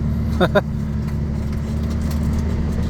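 A car engine runs at a steady low drone while driving, constant and close, with a couple of brief high chirps near the start.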